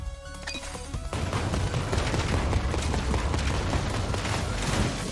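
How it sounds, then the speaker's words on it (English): Explosions in the Blast Man stage of the Mega Man 11 video game: a dense, loud burst of rumbling blasts begins about a second in and keeps going steadily to the end. "Feel the explosion!"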